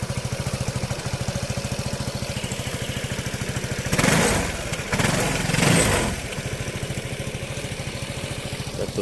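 A Piaggio X10 350 scooter engine on its stock factory exhaust idles with a steady, quick putter, close by, briefly swelling louder for a couple of seconds before settling back.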